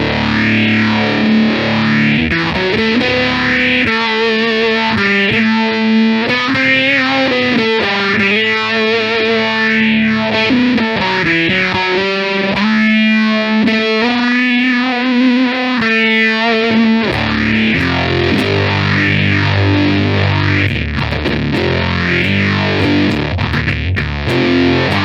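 An electric guitar runs through a fuzz pedal followed by a phaser, playing thick, distorted riffs and chords with a sweeping, swirling phase effect, loud and continuous with no talk.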